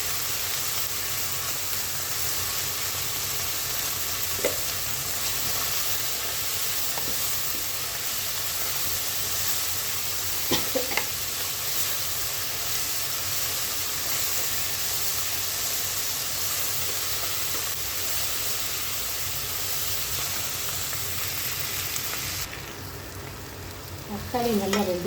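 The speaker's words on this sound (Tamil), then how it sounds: "தக்காளி நல்லா வதங்கணும்." Chopped tomatoes sauté in a pan for beetroot greens rice, giving a steady, close sizzle and hiss throughout, with a few brief stirring clinks and a dip near the end.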